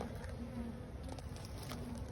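A steady insect buzz hums throughout, a dense drone of bees close by with no talking.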